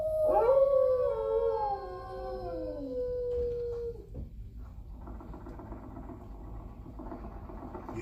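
A dog named Rover lets out a loud, wavering howl lasting several seconds, rising then slowly falling, after which a low hum of background noise continues with no voices.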